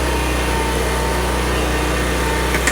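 A lawn mower engine runs steadily close by at idle, a constant droning hum holding level throughout with no voices.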